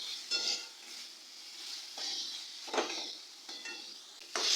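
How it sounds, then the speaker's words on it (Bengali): Fried potatoes are stir-fried with spices in a pan for kofta curry, giving soft sizzling under repeated scraping stirs of a spoon against the pan, moderately close. "আলুটাকে দিয়েও একটু কষিয়ে নেব।"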